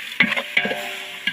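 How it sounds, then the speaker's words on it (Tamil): Salted tomatoes sauté in a pan for biryani cooked outdoors in a forest. Three short, crisp spoon scrapes stand out over a low, continuous sizzle. "இப்போ தக்காளி நல்லா வதங்கிடுச்சு ஃப்ரெண்ட்ஸ்."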